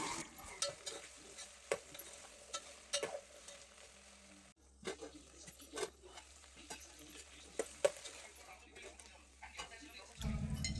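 Sliced okra with cumin and curry leaves cooks in a little oil in a pot, with a faint sizzle under scattered clinks and scrapes of a spoon stirring, quiet throughout.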